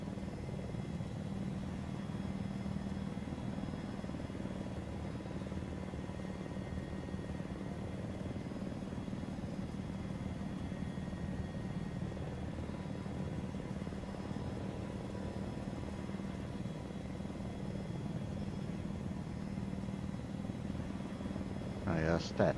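An Arma 3 helicopter hums and thrums continuously from inside the cabin, a steady low rotor and engine drone running unbroken throughout, with a voice talking faintly over it.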